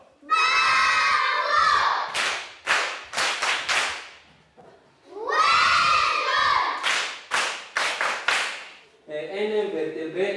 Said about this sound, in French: On applaudit fort.